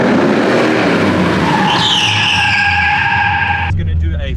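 Car tires squeal hard through a handbrake 90 drift: a long, loud, rising skid over the roar of the engine, then an abrupt cut as the slide ends.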